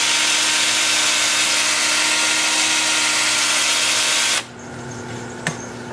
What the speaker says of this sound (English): So I'm starting with 80 grit on my 2-inch disc sander.